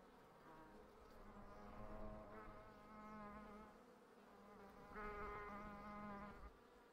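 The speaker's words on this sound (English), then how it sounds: "Most of the individual bee buzzing sound were from a recording I got off Free Sounds" Bees buzz steadily in the hive-building game Hive Time, a faint, close drone that swells and fades in waves, with several overlapping insect tones.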